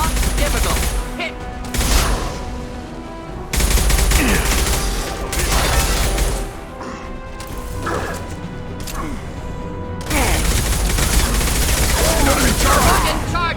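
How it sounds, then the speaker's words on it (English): Mass Effect 2 combat erupts with loud bursts of gunfire, smashing crashes and explosions from shot unstable crates, dense and continuous with brief lulls, while voices speak over the din. "A misplaced shot could cause a significant explosion."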